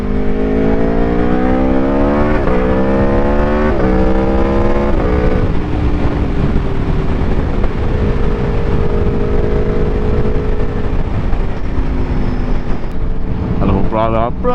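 A 2024 Aprilia Tuono V4 1100 Factory motorcycle accelerates hard on a road ride, its V4 engine climbing through rising revs with quick gear shifts, loud and close under heavy wind rush.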